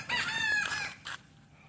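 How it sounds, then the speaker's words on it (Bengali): A rooster in a village crows once, loud and fairly close, followed by a brief clucking note, then quiet. "এই যে মুরগি ডাকছে"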